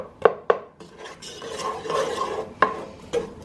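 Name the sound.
stirring onions in oil in a pot with a wooden spoon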